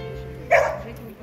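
A single short bark from a dog at a dog show, close and fairly loud against an indoor background murmur.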